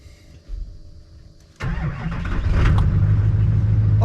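A Duramax pickup truck's diesel engine cranks in cold weather after sitting unused for a long time, then catches abruptly and settles into a loud, rough, steady idle.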